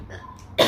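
A single sharp cough bursts out close and loud near the end, after a stretch of quiet indoor room tone, while a parcel is being unboxed.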